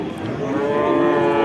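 A calf moos, low and drawn out, sustained across the whole short clip with a harmonic tone at steady loudness, at a cattle market.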